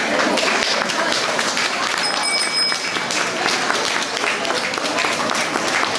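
A large crowd applauds first graders at a school ceremony, with continuous, dense clapping from start to finish and a brief bell-like ring in the middle.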